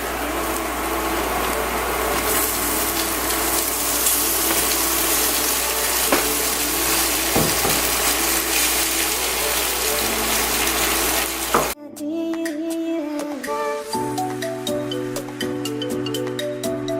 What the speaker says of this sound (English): we can now fold in the tofu and the cilantro